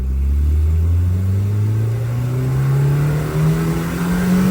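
A car fitted with a Kakimoto GT Box exhaust revs close by, its loud, smooth engine drone climbing steadily in pitch as it accelerates without a break.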